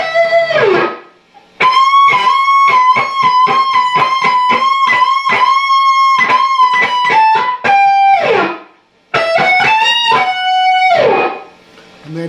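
An electric guitar plays an outro solo high up the neck around the 17th position, with repeated picked and bent notes in quick bursts, sustained lines and brief pauses between phrases, loud and alone.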